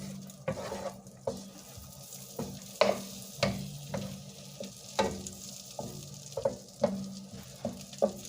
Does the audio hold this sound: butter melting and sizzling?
yes